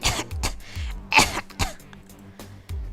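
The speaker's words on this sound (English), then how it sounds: "Jiyeon coughed in pain." A man in the Dandelion visual novel game coughs in pain, a string of short, harsh, close coughs and throat-clearing bursts spaced unevenly across a few seconds.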